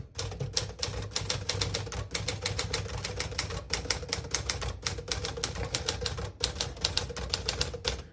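Rapid, steady clacking of a 1958 Smith-Corona Silent portable typewriter's keys struck close by, a dense run of sharp mechanical taps with brief pauses between bursts.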